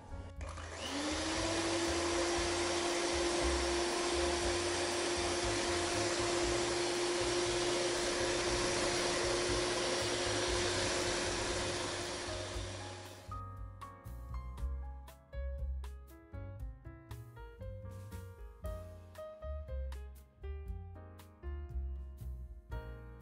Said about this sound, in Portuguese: Vou bater para fazer um chantilly.